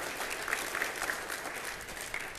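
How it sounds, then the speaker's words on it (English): Conference audience applauding at opening ceremonies on the Ajax waterfront, a steady crackle of many hands clapping at moderate volume, with a few sharper claps and faint cheers standing out. "we'll give that a round of applause."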